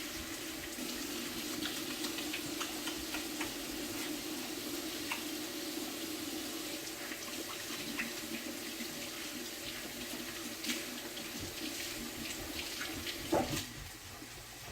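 Hands being washed under a running kitchen sink tap during hamburger cooking, a steady, close rush of water that stays even throughout, with a faint clink near the end.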